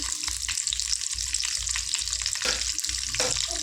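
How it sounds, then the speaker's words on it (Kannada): Curry leaves fry in hot oil with a steady, close sizzle, a low rhythmic stirring scrape, and a brief crackling burst near the end. "ಕರ್ಬೇವು ಸೊಪ್ಪು ಸ್ವಲ್ಪ ಸ್ವಲ್ಪ ಫ್ರೈ ಮಾಡ್ಕೋಬೇಕು ಎಣ್ಣೆಯಲ್ಲಿ"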